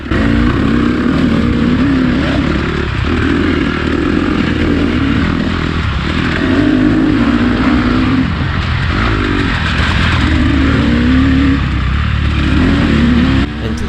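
Riding off-road on a 2-stroke KTM and a 4-stroke Honda CRF dirt bike, the engines howl loud and close, revs repeatedly climbing and dropping through turns and mud.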